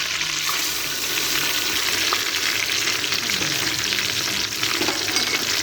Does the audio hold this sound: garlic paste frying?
yes